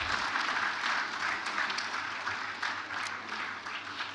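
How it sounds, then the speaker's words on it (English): Steady applause from an audience at a real estate memorial lecture and fellows induction, honouring a guest speaker. Dense, fairly loud clapping runs unbroken throughout with no talk over it. "As a round of applause, thank you very much."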